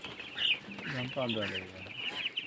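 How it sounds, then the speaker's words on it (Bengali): Young broiler chickens cluck and chirp steadily inside a poultry farm shed, a close, continuous flock murmur with a voice briefly heard over it. "দেখুন মুরগির বাচ্চা ব্রয়লার"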